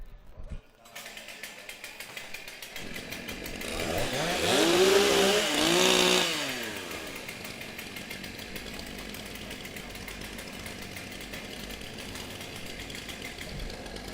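STIHL chainsaws warm up at a women's and rookie timbersports championship in New Zealand, one saw revving up sharply and then dropping back to a steady buzzing idle alongside others.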